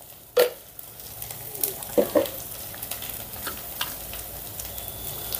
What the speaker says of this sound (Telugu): అల్లం వెల్లుల్లి పేస్టు చక్కగా ఫ్రై అయిందండి